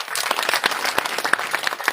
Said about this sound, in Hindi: मैं चाहूंगा उनके लिए भी आप जोरदार तालियां बजाएं।